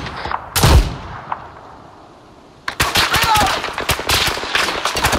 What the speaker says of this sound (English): One mortar firing.